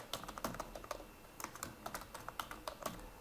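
Typing on a computer keyboard while entering text for a Facebook cover design, a quick steady run of soft, close key clicks with no voices.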